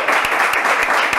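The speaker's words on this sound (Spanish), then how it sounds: "¡Aplausos para Agrocampo!" A television studio audience on a talk show claps briefly in a steady, fairly loud burst, with a few sharper claps standing out.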